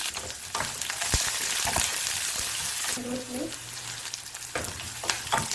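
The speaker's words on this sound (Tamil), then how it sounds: "இப்போ பச்சடிக்கு வதக்கிக்கலாம் கடுகு உளுந்து சீரகம்" Mustard seeds, urad dal, cumin and onions sauté in hot oil for a Chettinad pachadi, a loud continuous sizzle and crackle broken by a few clanks of a stirring spoon.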